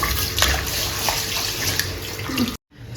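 Raw mutton being rinsed in fresh water for biryani, with continuous splashing and running water close by in a kitchen, stopping abruptly near the end.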